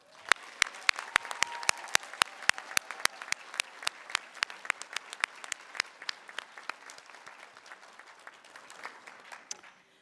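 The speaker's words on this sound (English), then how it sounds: "Let us give them another round of applause." Sustained applause from a commencement audience honoring university graduates, dense overlapping claps with sharp individual hand strikes standing out near the front, steady throughout and gradually thinning slightly toward the end.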